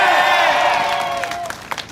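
A crowd at a political rally in Daegu cheers and shouts together in a loud, sustained swell that fades over two seconds into scattered claps and calls.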